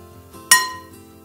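A serving spoon scoops rigatoni alla salsiccia e panna onto a plate, giving one sharp, ringing clink of metal on china that fades quickly against a quiet kitchen background.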